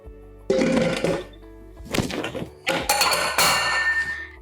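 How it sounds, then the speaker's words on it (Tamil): A metal pressure cooker lid is fitted and closed over mutton curry: a few loud metallic clinks, scrapes and thunks in separate bursts, close up, over a faint background hum. "இப்போ வந்து குக்கர் மூடி வச்சிட்டோம்"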